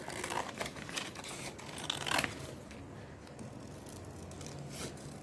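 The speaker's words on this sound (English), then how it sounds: "using your scissors very neatly we are going to cut it out." Scissors neatly cutting out a triangular paper nose for a handmade paper yak mask, a close, soft run of snipping and crinkling with a louder burst near the middle, no talking.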